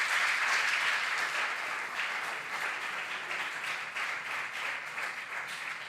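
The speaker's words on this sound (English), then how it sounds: "A round of applause for yourselves." Supporters at a school science and maths quiz contest applaud in a dense crowd wash that starts loud and eases slightly while staying steady, with scattered individual claps audible within it.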